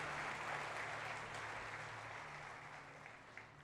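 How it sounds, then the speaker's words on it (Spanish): A church congregation gives steady, dense applause that fades gradually toward the end, with no voices over it. "Dele ese aplauso más fuerte"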